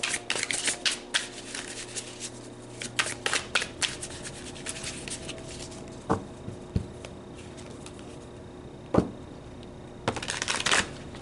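Tarot cards riffle and shuffle in quick bursts, crisp papery flutters separated by brief pauses and a few soft taps, close by with no talking.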